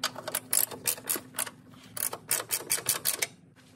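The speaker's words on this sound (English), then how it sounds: "As you loosen the nut, the strut will lower down." A ratchet loosens the upper strut nut on a 2002-2007 Saturn Vue, producing a rapid run of sharp metallic clicks in quick bursts, close and clear with brief pauses between strokes.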